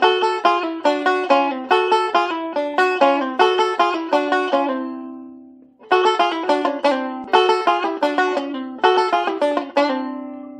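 Banjo-style string lick played in double stops with quick pull-offs, bright plucked notes ringing in steady rhythmic runs, a brief pause midway, then the phrase repeats, close and alone without talk.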